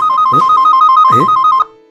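A mobile phone rings with a loud, close electronic ringtone: a steady repeating melodic tone for about a second and a half, then it cuts off abruptly into quiet.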